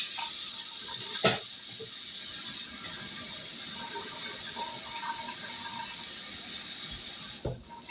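Tap water runs steadily into a pot for boiling eggs, a continuous close hiss and splash that stops abruptly near the end.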